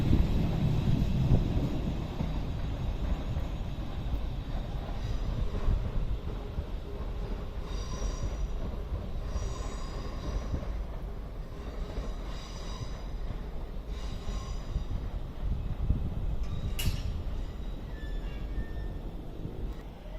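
A Class 350 electric multiple unit rolls through Crewe station in a continuous steady rumble of wheels on rail, with faint squeals and clatter partway through, heard from the platform.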